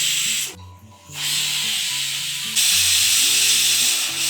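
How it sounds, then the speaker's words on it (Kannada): A pressure cooker holding carrots and almonds submerged in milk releases a steady, loud hiss of steam that runs the whole time, briefly dipping once, with background music playing underneath. "ಇದನ್ನು ಒಂದು 3 ವಿಸಿಲ್ ನಾವು ಇವಾಗ ಕೂಗಿಸ್ಕೊಳ್ಳೋಣ"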